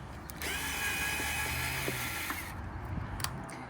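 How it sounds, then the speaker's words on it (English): A power drill whines steadily at high pitch for about two seconds while drilling through plastic, then winds down, with faint mechanical rattling and clicks underneath. "we're gonna use our drill and put holes in the center all the way through"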